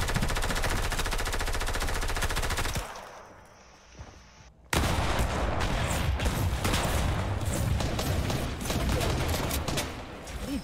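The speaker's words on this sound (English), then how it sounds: "Who the fuck shooting me?" Rapid bursts of automatic gunfire aimed at the player in a video game, loud and dense, with a brief quieter gap before the shooting resumes in fast repeated volleys.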